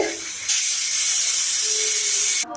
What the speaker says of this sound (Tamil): விசில் வந்தோடனே இறக்கி தாளிப்போம். விசில் வந்துருச்சு.